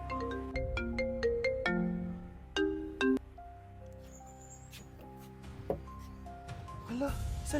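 A cellphone ringtone plays a series of repeated melodic electronic tones at moderate loudness, with a few later notes amid background rustle and short vocal sounds.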